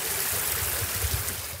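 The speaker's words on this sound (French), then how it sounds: "on a un sentier qui s'est transformé en ruisseau" Water rushing down a flooded hiking trail turned into a stream, a steady broad hiss of running water with low gurgling surges, close and continuous, no voices.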